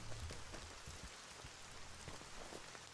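Steady rain pours down in a side-scrolling Far Cry game, a dense even hiss throughout with a few low thumps underneath and no voices.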